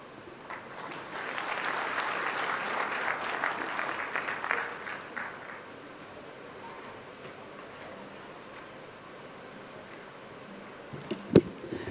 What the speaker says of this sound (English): Let's clap once again for the governor as he resumes his seat